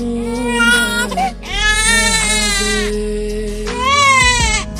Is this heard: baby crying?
yes